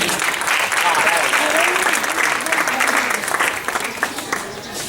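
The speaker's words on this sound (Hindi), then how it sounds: "जरा तालियां बजाइए" An audience at a child rights theater event breaks into sustained applause, a dense, loud wash of many clapping hands with some voices mixed in, continuing throughout.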